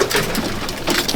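Green Dobaz pigeons in a loft give soft low coos with light rustling and fluttering around them, a busy close texture of short sounds and no talk.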